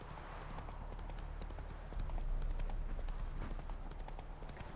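A horse's hooves clip-clop at a steady trotting rhythm in The Witcher 3: Wild Hunt video game, close and continuous over a low ambient hum, growing slightly louder partway through.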